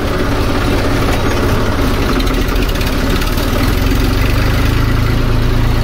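A tractor engine idles steadily close by, a loud, continuous low diesel rumble with even vibration and no change in pace throughout, with no voices over it.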